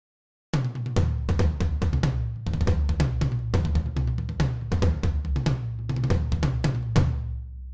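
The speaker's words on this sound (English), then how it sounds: "And finally is the Tama toms, which are usually my go-to." Tama toms, used as programmed drum samples, strike in quick fills of several hits at a time. Each hit has a sharp attack and a resonant low tail, and the pattern repeats in busy bursts with no voices.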